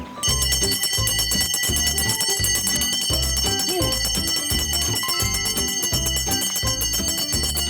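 Bright metallic bell tones ring repeatedly over a steady rhythmic backing, clear and prominent throughout, a bell rung to call rare birds to feed.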